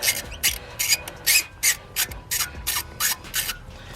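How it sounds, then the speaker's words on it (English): A hand ratchet clicks in quick, regular bursts, about a dozen short rasping strokes, as spark plugs are loosened from a personal vehicle's engine, close and clear. "we're going to take it out with the ratchet just so we can get a feel for everything and make sure that they actually come out"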